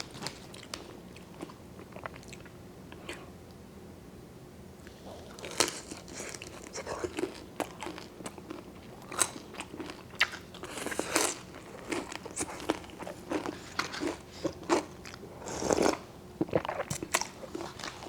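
Crunchy Korean-Chinese sweet and sour pork is eaten up close, with repeated crisp bites and crackly chewing in uneven bursts. A quiet voice is heard briefly.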